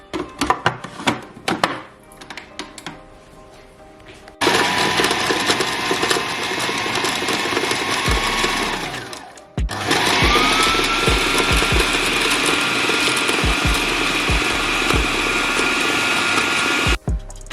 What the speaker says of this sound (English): I've got a food processor here and I'm going to put into it one slice of bread. I'm going to blitz that first.